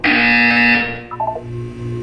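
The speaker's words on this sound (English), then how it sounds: "When you hear the buzzer, look down at the floor." A loud, steady electronic buzzer sounds in Portal 2, a sustained tone for about a second that cuts off, followed by a few short quieter tones and a low hum.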